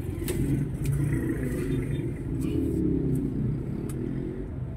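Motorized tricycle engine amid rush hour traffic, a steady, close rumbling drone with faint horn-like bursts and passing vehicle noise throughout.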